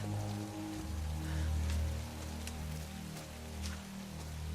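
A rainstorm in a coastal forest from the Tomb Raider video game, with steady rain pattering on surfaces over a low rumbling bed and occasional louder drops, fairly quiet throughout.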